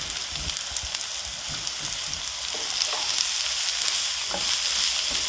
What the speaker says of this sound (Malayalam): ഇനി നമുക്ക് ചെറുതായി അരിഞ്ഞു വെച്ചിരിക്കുന്ന സവോള ഇട്ട് വഴറ്റാം.